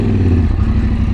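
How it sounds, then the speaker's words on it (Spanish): A motorcycle maneuvered off-road on an adventure trail, its engine loud and close in a steady rumbling idle with slight revving throughout. "voy a devolver la moto un poquitico para pasar por aquí"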